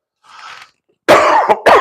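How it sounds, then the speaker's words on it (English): Two or three harsh, close coughs in quick succession follow a faint breathy sound and a short silence, loud and dry. "I'm so sorry, so sorry for coughing in your ears all night"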